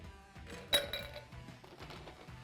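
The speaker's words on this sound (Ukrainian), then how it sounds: "Закидаємо туди лід, але не переживайте, ми його потім звідти дістанемо." Ice cubes drop into a wine glass at a home bar with one bright glassy clink, then a few softer rattles and clinks, faint and close, with no talking.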